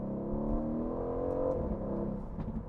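An Aston Martin Vantage V8 engine on a test drive gives a short, rich, throaty drone with a rising rev, heard close and steady for a few seconds with no talk.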